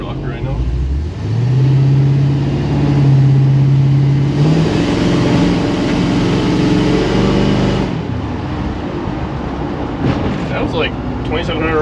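A 1956 Chevy wagon engine revs loudly up to a high steady pitch, holds for a few seconds, then drops back toward idle, close and dominant throughout.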